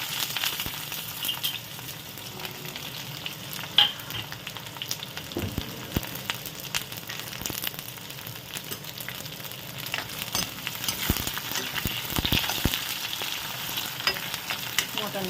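Onions frying in spiced oil with bay leaf, cinnamon and cardamom for mutton curry, a steady close sizzle with scraping stirs and occasional clinks of a spoon against the pan, no talk.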